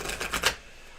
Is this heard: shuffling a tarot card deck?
yes